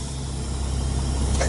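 A semi truck's diesel engine rumbles loud and close in the cab as it is put in gear and begins pulling away, a steady low drone with no talk.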